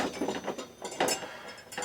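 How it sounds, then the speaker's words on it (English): A crank puller tool drawing vintage bicycle crank arms off the bottom bracket spindle, heard as a few close, rhythmic ratcheting clicks and grinding metal creaks as the shaft is turned. "this is forcing this center shaft through against the bottom bracket spindle, so it's sucking this crank tool and crank arms off"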